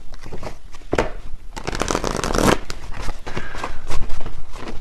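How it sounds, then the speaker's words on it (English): Tarot cards shuffled by hand give close, papery bursts of riffling and sliding that come in uneven waves and grow busier toward the end. "let me actually get a few more tarot for this part."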